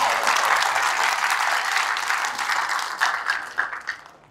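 A church congregation claps together in a dense, steady roar of applause that thins into a few separate, sharper claps at the close.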